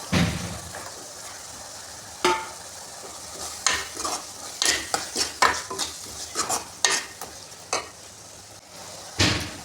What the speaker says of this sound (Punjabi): ਮਸਾਲੇ ਨੂੰ ਉਦੋਂ ਤੱਕ ਭੁੰਨਾਂਗੇ ਜਦੋਂ ਤੱਕ ਇਹ ਤੇਲ ਨਹੀਂ ਛੱਡ ਦਿੰਦਾ